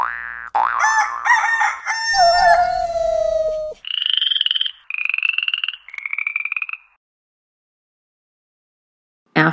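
Loud frog croaks and boinging calls, followed by three rooster-like crowing phrases, then silence and a brief final sound.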